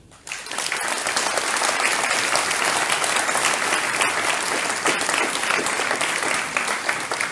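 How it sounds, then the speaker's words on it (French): An audience at a town mayor's speech in Coulaines bursts into sustained applause, dense and even clapping that starts abruptly and continues throughout at a steady level. "Vous pouvez les applaudir."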